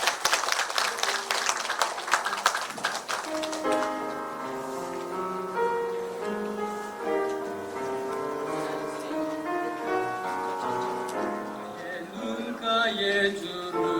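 Applause from the audience at a 2023 book launch event, a dense burst of clapping for about three seconds that fades as a piano begins playing.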